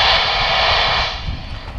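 A short APRS packet radio burst from the ISS, received on 145.825 MHz, comes through as a loud, buzzing, hiss-like data tone lasting about a second before dropping into fainter static.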